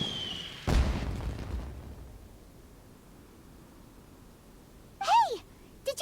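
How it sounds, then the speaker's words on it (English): An explosion goes off in the video game Genshin Impact, one sudden boom followed by a fading rumble, then quiet ambience and a brief chirpy game sound near the end. "Did you hear that explosion?"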